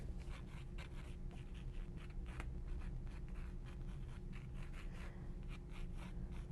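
A pencil sketches on canvas at the start of a painting, making soft, close scratchy strokes in short repeated bursts over a low steady background hum.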